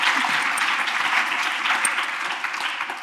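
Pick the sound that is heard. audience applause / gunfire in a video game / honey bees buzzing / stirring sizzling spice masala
audience applause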